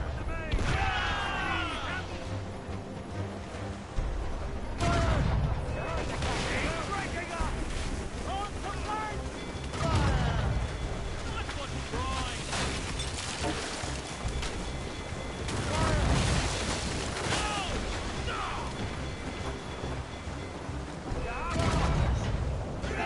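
Ship cannons boom in a naval battle in the video game Assassin's Creed Rogue. Several heavy blasts at spaced intervals cut through wind and rushing water, and shouted voices come in between the shots.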